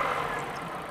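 A car engine settling back to idle after being revved to 3,000 RPM, a steady mid-pitched running drone that eases slightly over one second, heard alone.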